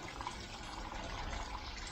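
Water drains out of an upturned aquarium filter in a soft, steady trickling wash, faint and continuous with no talk.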